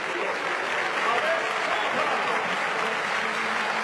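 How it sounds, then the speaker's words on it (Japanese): Baseball crowd at Kyocera Dome applauding as Hanshin pitcher Atsushi Nomi finishes his final appearance, a steady, broad roar of clapping from the stands throughout. "場内から大きな拍手"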